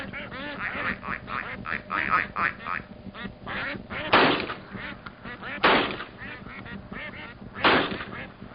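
Ducks quacking repeatedly in a wetland district popular for winter duck hunting, loud raspy calls in uneven bursts over a busy background of other bird chatter.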